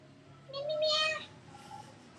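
A pet cat gives one clear, drawn-out meow close by in a quiet room, followed by a softer, fainter trailing call.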